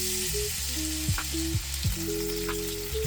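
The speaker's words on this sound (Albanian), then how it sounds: "Vaji është nxehur dhe tani hedhim qepët." Onions frying in hot olive oil in a pan, a soft continuous sizzle with a few sharper crackles, heard quietly beneath a faint background melody.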